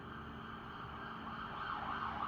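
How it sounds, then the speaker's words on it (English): Emergency sirens pass by outside, faint and distant, a wavering wail rising slightly near the end over a quiet indoor background with no talking. "Here's some sirens going by."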